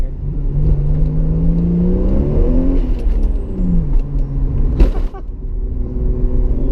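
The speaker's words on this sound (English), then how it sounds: "I'm going to shut up and downshift here for a second here." Toyota Supra engine revving up and down through a downshift, rising and falling harmonic tones with a sharp blip of throttle near the end, loud and close with a steady low road rumble underneath.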